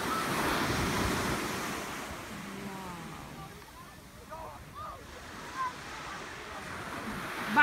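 Atlantic Ocean waves wash onto the beach at Ocean City in a steady broadband rush with wind buffeting the microphone, while faint voices and children sound in the background.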